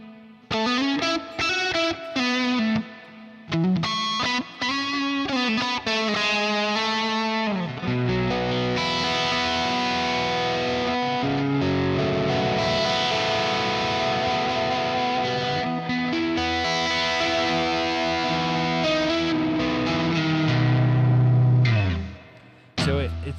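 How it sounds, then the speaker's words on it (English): Electric guitar played through a roomy, spacey reverb with the delay backed off. It runs continuously and fairly loud, with quick picked note changes at first and then sustained, ringing chords and lines. "It's a pretty roomy, spacey reverb, but it doesn't get too wet."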